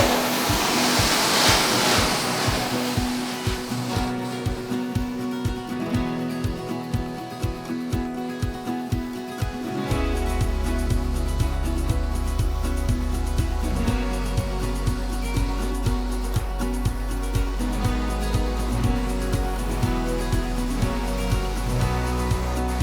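A carpet cleaning machine makes dry extraction passes over carpet inside a laundromat, a steady loud suction roar with rhythmic pulsing strokes that gives way to a sustained droning hum.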